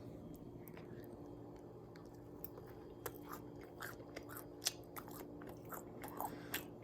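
Close, soft crunching bites and wet chewing on pieces of homemade French toast, a few sharper crunches standing out among quieter mouth sounds, with no talking.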